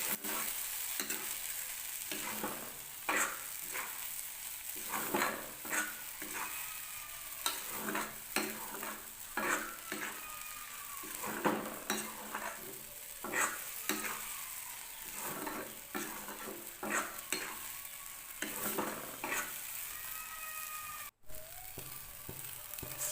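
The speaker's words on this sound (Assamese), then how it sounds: "তাৰপিছতে অলপ পানীখিনি শুই যোৱালৈকে ভাজি থাকিম।" Egg and tomato frying in a pan make a constant sizzle, broken by frequent scraping stirs and clatters of a utensil against the pan, close and fairly quiet throughout.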